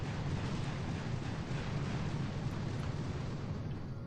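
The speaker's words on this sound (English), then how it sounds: "I need to clear those mines anyways, so I'm going to use a barrage to mark them." Barrage artillery strike in the mobile strategy game Boom Beach, a dense, continuous rumble of overlapping explosions, loud and sustained for several seconds.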